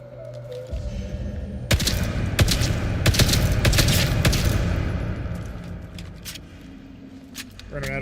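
SMG gunfire in the video game Atomfall, a dense rapid burst of close, loud shots lasting several seconds, with game sounds and voice in the mix.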